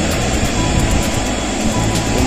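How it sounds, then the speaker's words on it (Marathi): Vistara airliner jet engines on the runway at Mumbai's international airport, a loud, steady broadband roar with a low rumble, continuous and fairly close throughout, with no talk. "विमानाच्या इंजिनचा तुम्ही ऐकू शकता।"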